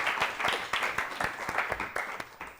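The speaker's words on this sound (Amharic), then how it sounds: "እስቲ በደንብ አድርጋችሁ አጨብጭቡላቸው ለሁለቱም" A classroom audience of children claps for two schoolgirl quiz contestants, a short burst of quick, dense, fairly close applause with irregular loud hand strikes throughout.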